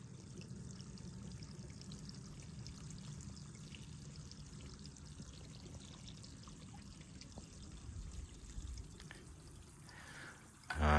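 Faint, continuous thin trickle of water falling from a waterfall, splashing and dribbling in the background, with a louder bump at the very end.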